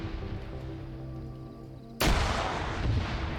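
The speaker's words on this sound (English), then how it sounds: "Grenades going off." Video-game firefight with grenades going off: a sudden loud broadband blast around the midpoint, followed by a sustained dense roar of explosions and gunfire, after a steadier background battle hum.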